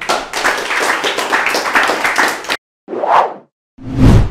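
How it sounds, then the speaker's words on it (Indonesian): Audience at a drum corps event featuring IPDN Gita Abdi Praja stickmasters and majorettes claps in a dense, loud burst for over two seconds, then stops; a couple of short separate swishing thumps follow after brief silences. "Tepuk tangan dulu dong"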